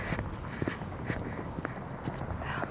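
Quick footsteps of a person jaywalking across a street in Stillwater, Oklahoma, a brisk run of light, close steps on pavement over faint outdoor background noise.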